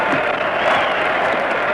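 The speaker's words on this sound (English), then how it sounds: "The crowd goes wild as George tries to press his advantage." Wild cheering and roaring from a boxing crowd at Jack Dempsey's fight with Georges Carpentier, a dense, steady wall of voices and clapping held at full volume throughout.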